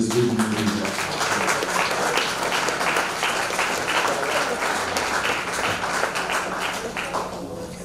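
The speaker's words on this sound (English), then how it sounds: "I want you to join me in applauding President Ford in this vision that he has." Sustained applause from a seated audience honoring President Ford during closing remarks: a broad, even wash of many hands clapping together, continuous and moderately loud throughout, tapering gently toward the end.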